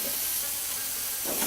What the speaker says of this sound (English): Then you saute the chicken